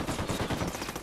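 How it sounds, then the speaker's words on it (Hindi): Rapid automatic gunfire in the Ghost Recon Wildlands video game, a dense burst of quick shots that stays loud and close for the whole moment, with no voices over it. "गोलियां चल रही है।"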